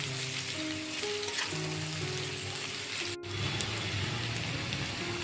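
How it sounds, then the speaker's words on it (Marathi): Coarsely ground garlic fries in a pan with a loud, steady sizzle and crackle, as background music plays softly underneath and a brief stirring clatter breaks in midway. "छान त्या लसणाला परतून घ्यायचं आहे"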